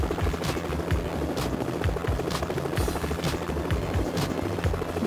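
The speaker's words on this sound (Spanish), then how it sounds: "Que está un helicóptero." Video game helicopter heard from outside, a steady rhythmic rotor chop with repeating low thumps running continuously at moderate loudness, no one talking.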